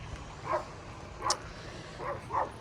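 A few short yips and barks from dogs scuffling in a fight, three or four brief bursts at moderate distance over quiet background.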